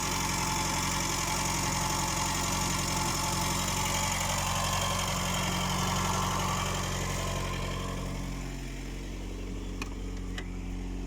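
An FSO Polonez 1500 car engine idles steadily with a low, even hum and slight vibration, continuous throughout with no talking.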